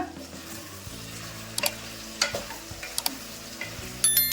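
Tomato, curry leaves and Kashmiri chilli powder fry in a pan for sambar, a soft background sizzle broken by several distinct clinks and scrapes of a spoon stirring, growing louder toward the end.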